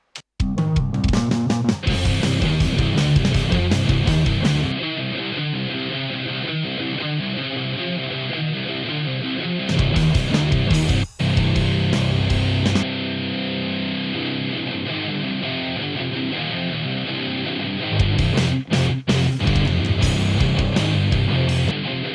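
Electric guitar playing through a Seacow artist signature impulse-response pack set for an old-style distortion, loud and upfront with chugging riffs, gaps of near silence, and bursts of ringing chords.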